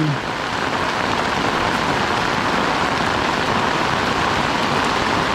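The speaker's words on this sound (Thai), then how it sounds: "ฝนตกหนักมากเลยนะคุณผู้ชม" Heavy rain pours down steadily at a cave shrine entrance in Thailand, a dense, continuous hiss of drops hitting surfaces, loud and close throughout with no voices.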